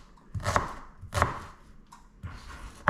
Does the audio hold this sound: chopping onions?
yes